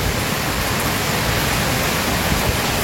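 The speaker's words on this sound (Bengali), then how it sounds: "কি পরিমাণের বৃষ্টি যে হইতেছে" Heavy rain falls in a Bangladeshi village among many trees, a dense, unbroken hiss of downpour that stays loud and even throughout, with no voices.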